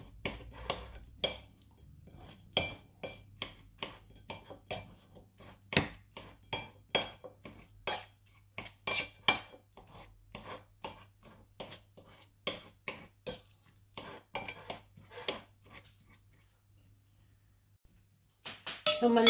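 Knife chopping eggplant flesh into small pieces on a board, a long run of sharp irregular taps close by over a faint low hum, with no talk.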